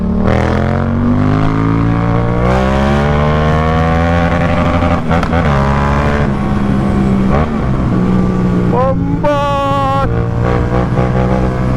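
A loud Yamaha MT-07 motorcycle engine roars steadily up close while riding, its pitch climbing and falling as it revs through the gears, with a brief high whine near the end.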